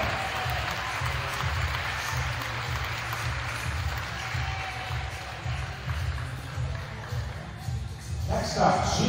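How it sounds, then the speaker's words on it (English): Crowd applause fills a high school gym during senior recognition at a women's varsity basketball game, steady and moderately loud for several seconds with a thumping low rumble underneath, tapering near the end as a voice comes in. "How about a round of applause for super senior Jane Mantell"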